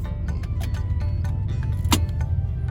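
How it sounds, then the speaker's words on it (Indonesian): A Nissan Navara's engine keeps idling under its turbo timer after the key is switched off and removed: a steady, close, low rumble with a faint clatter on top and one brief sharp click near the end. "Tapi mobilnya masih nyala dulu. Padahal kuncinya udah diambil."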